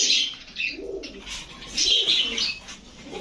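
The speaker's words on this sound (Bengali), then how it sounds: "পাঙ্কি ফেটা কবুতর দুইটা ডিম নিয়ে বসা" Soft, low coos of pet pigeons, including a pair nesting on two eggs, repeat in a slow rhythm over faint chirping, fairly close by with no talking.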